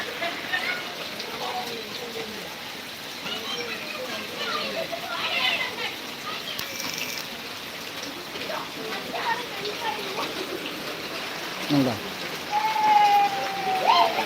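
Steady rain pours down in a constant hiss, with voices and children's chatter faintly mixed in and a brief squeaky sound near the end.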